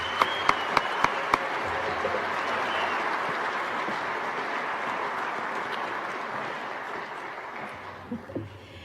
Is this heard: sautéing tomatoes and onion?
no